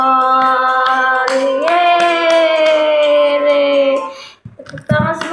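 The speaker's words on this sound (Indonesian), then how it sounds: "Tepuk tangan semuanya anak-anak" Children clap their hands in a classroom lesson, with sharp scattered claps under a loud, sustained sung or held vocal tone that cuts off near the end.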